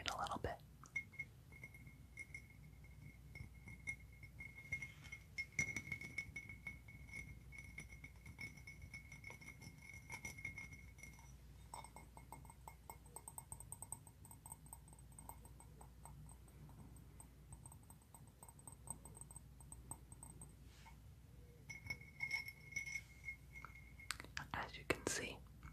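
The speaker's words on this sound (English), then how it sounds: "this McDonald's cup from 1995. It's Batman themed, and it makes some really, really nice noises." A Batman-themed 1995 McDonald's glass cup is handled softly up close, with faint clinks and taps against it under quiet whispering.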